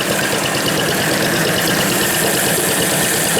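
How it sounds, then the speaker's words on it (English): Antique corn grinder engine running steadily and loudly, with a continuous rough mechanical drone and rattle close by, no voices. "Let this engine run a little longer."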